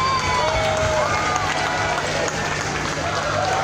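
An audience applauds Gustavo at a Banda Tekos band concert in Valadares: a dense, steady wash of clapping and crowd noise fills the whole stretch, with a voice talking over it.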